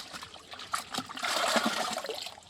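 Water is tipped into a farm tank holding gram flour for a microbial slurry, giving a continuous close trickling and splashing pour that swells midway, with no talk.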